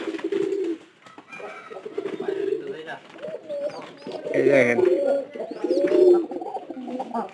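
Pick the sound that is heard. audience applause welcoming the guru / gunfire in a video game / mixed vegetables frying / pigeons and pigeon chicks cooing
pigeons and pigeon chicks cooing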